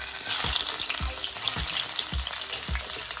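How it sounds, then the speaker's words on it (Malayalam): Onions frying in hot oil give a dense, bright sizzle, with a few soft, regular stirring scrapes in the pan and no talking. "നമുക്ക് ഓണിയൻ ഇട്ട് കൊടുക്കാം."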